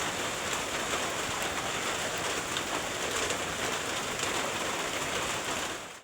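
Steady rain pours down outdoors in a rural Thai or Lao setting at seven in the morning, a dense continuous hiss of drops striking surfaces that stays loud and even throughout with no voices.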